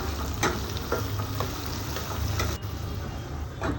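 Thinly sliced onions fry in hot oil with dry red chillies, a continuous close sizzle with scattered clicks and scrapes of stirring.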